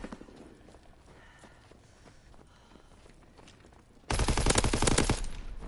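An STG-44 assault rifle with extended magazines, fired in a WWII video game, lets out a sudden loud rapid burst of automatic fire near the end, following quieter in-game movement and footsteps.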